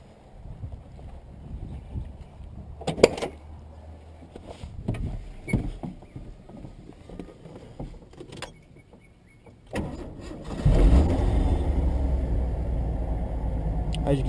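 A 1989 Ford F150 short bed pickup is cranked with a few clunks and bumps, then its engine catches and settles into a loud, steady running rumble, with a voice heard beforehand.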